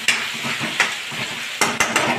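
Chopped tomatoes hit a hot pan of spiced potato sabzi and sizzle steadily, with a few sharp bursts of spitting and clinks of a spoon against the pan, close and fairly loud with no talk.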